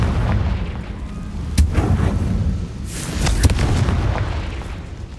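A Confringo fire-blast spell cast in Hogwarts Legacy on Xbox Series X lands as two sharp booming blasts a couple of seconds apart, set over a dense, rumbling battle din.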